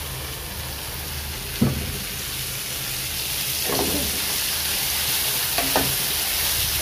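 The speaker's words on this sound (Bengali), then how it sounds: "তেলের উপরে এটা ভাজবো, আর তাহলে এই ভাজার মধ্যেই সিদ্ধ হয়ে যাবে" Duck meat fries in a small amount of oil in a home kitchen, giving a steady close sizzle with a few sharp stirring knocks and scrapes and no talking.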